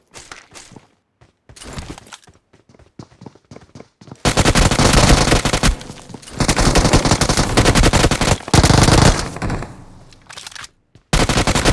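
Gunfire in an online shooter video game: scattered single shots, then long dense machine-gun bursts that cut off and resume, loud and close.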